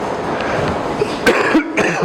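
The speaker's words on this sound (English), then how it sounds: "I apologize for that if I cough a little bit." Man with allergies coughs a few times at close range, short harsh bursts near the end after a stretch of room noise.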